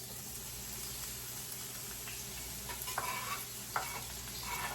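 Onion and ginger frying in a pan for chicken lettuce wraps, a low, steady sizzle with occasional spoon scrapes and stirring taps over constant background hiss.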